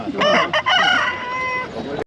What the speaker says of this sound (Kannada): ಇದು ಏನು ಜಾತಿಯ ಟರ್ಕಿ ಕೋಳಿ ಟರ್ಕಿ ಕೋಳಿ